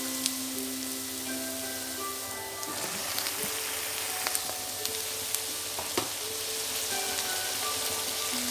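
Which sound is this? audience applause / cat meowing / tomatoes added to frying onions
tomatoes added to frying onions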